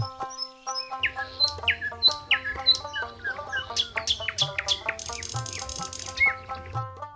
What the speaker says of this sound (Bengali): দূরে কোনো গাছের ডালে এক বা দুইটি পাখি বসে কিচিরমিচির করে যায়